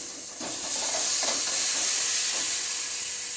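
Water hits a pan of oily spice paste with melted tomatoes, sending up a loud, broad hissing sizzle that swells and holds for a few seconds.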